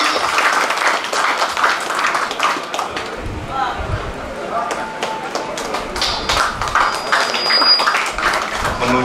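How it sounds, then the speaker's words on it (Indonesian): An audience applauds at an Indonesian off-road federation ceremony in South Sulawesi, a dense burst of clapping that runs steadily for the full stretch, fairly loud and close, with scattered brief tones over it. "berikan tepuk tangan yang meriah hadirin"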